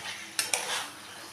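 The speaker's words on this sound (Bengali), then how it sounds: "ভালো করে আবারও কষিয়ে নেব।" A spoon scrapes and clinks twice in a pan of chicken being stir-fried in spice masala with cashew paste, faint and quick over a soft background hiss.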